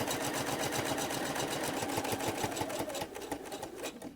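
A sewing machine runs steadily, stitching through batting and background fabric along a quilt border, its needle giving a fast, even mechanical chatter up close before slowing and stopping near the end.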